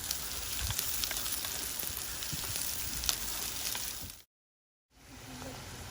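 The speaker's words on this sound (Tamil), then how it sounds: "அடுத்தது வெங்காயம் போட்டுக்கோங்க. வெங்காயம் நல்லா வதங்கி வரட்டும்" Onions sautéing in a pan with curry leaves for a South Indian bitter gourd kara kuzhambu, a steady close sizzle with scattered pops and crackles that cuts out briefly to silence near the end before resuming.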